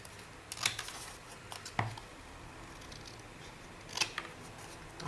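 Scissors cutting paper card for a confetti-launcher scrapbook card, a few quiet snips and crisp paper rustles at irregular intervals, close by, with no speech.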